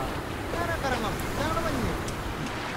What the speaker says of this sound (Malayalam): ഇവിടെ ഉയരമുള്ളത് കൊണ്ടാണ് ഇവിടെ കാറ്റ്.